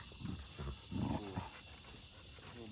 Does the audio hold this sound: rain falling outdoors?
no